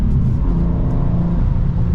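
A 2023 BMW M2 accelerating hard under launch control, a steady loud engine roar with dense low rumble, heard from inside the car for two seconds without talk.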